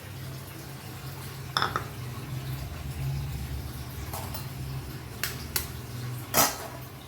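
Eggs cracked one at a time into a bowl before being poached in a curry sauce: a few sharp, separate cracks and clinks spaced seconds apart over a low steady kitchen hum.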